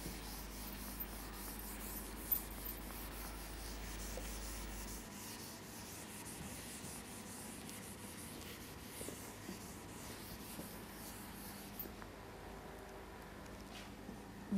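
In a physics classroom, writing on a board is rubbed out with soft, faint scrubbing strokes over quiet room tone.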